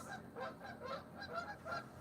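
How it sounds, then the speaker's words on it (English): Waterfowl at a lake give a string of nasal honking calls, several birds overlapping in quick irregular bursts, faint and somewhat distant over outdoor background noise. "Can you hear the ducks?"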